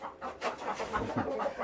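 Rooster clucking inside a chicken coop, a short burst of soft, close clucks in quick succession, fairly quiet and alone.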